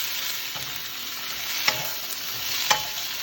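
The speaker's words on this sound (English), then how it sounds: "So I'm sauteing everything" Vegetables for stewed lentils sauté in a pan on the stove with a steady hissing sizzle, broken by a few sharp clicks from stirring.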